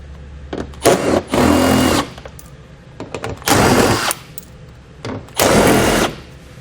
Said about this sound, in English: There are 4 bolts located here we need to take out with an 8mm socket.